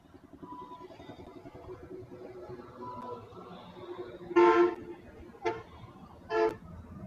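A vehicle horn sounds three times, one longer blast followed by two short toots, loud and close over a steady road rumble with some talk.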